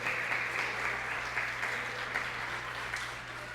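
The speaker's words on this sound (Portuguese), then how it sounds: "Você pode aplaudir o Senhor Jesus?" A church congregation applauds at a sermon, a soft, steady patter of many hands clapping heard at a distance over a low electrical hum.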